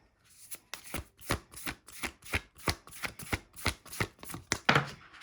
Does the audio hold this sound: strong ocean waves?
no